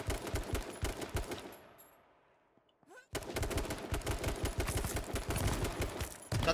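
Rapid gunfire crackles in the online shooter H1Z1, dense bursts of close shots that break off into near silence and then resume just as heavily.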